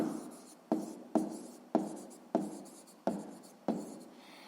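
Pen writing out a maths solution on paper, a close, quiet series of about seven scratchy strokes in a steady rhythm, each starting sharply and fading.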